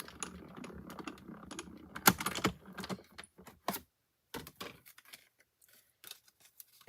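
Scissors snip through folded paper card for a slider card, crisp irregular cuts and rustles close by, broken by brief pauses with no talking.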